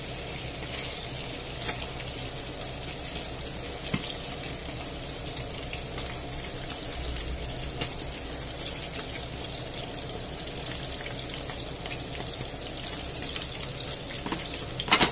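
Chickpea meatballs fry in oil in a pan, giving a steady, faint sizzle with light crackling and bubbling that runs without pause and with no talk.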